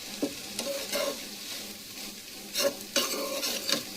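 Chicken noodles being stirred and tossed in a hot pan, with a steady sizzle under repeated scraping strokes of a utensil against the pan, clear and close.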